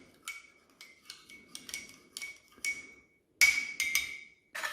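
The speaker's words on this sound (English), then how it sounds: "We have the ForeignMRE.com spork. So let's give it a stir." A spork scrapes and clinks against a Kazakhstan army ration meal, mostly beef with rice, in short irregular scratchy strokes, close and fairly quiet, with a louder burst of scraping near the end.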